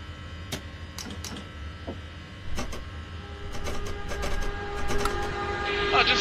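Train running in a train simulator game with a modded rail pack, a steady low rumble with repeated clicks and clunks from the wheels and track, building slightly toward the end with no talk.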